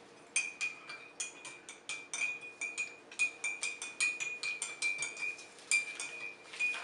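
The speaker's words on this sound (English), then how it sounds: "So stir the tea." A spoon stirs tea in a cup, clinking rhythmically against the sides in quick repeated taps, close and fairly quiet with a faint ringing tone under each strike.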